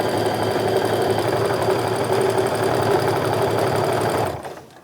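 A sewing machine runs steadily while stitching the corners of a fabric tote bag, a loud, close, continuous motor whir that holds for several seconds and then winds down and stops.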